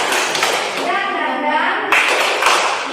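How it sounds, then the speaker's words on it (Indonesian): Pupils at a madrasah classroom clap a rhythmic spirit routine, dense hand claps running steadily through the clip while children's voices chant along close by. "Adik-adik tepuk semangat."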